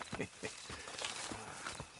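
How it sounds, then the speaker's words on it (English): Horses in Red Dead Redemption 2 straining to pull a tied structure down, heard as a brief patch of hoof clops and shuffling steps over a busy game background with faint voices. "Horses will pull it clean down."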